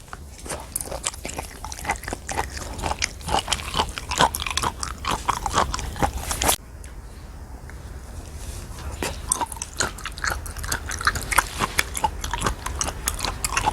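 Close-up eating of flounder sashimi with soy sauce: repeated soft wet bites and chewing with smacking mouth sounds, steady and near throughout, with a brief quieter pause midway.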